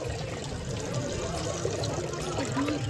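Water pours steadily into a drinking-water bottle from a tap at a roadside water facility on the Vaishno Devi pilgrimage route. The trickle runs continuously amid outdoor background noise, and a voice can be heard faintly.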